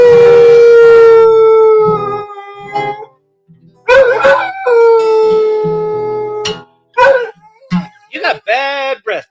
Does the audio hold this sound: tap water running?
no